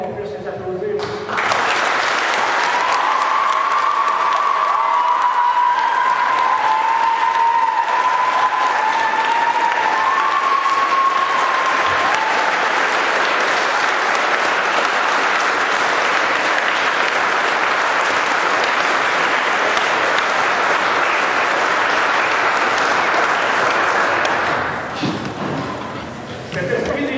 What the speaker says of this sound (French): j'aimerais, si vous voulez bien, qu'on puisse les applaudir aussi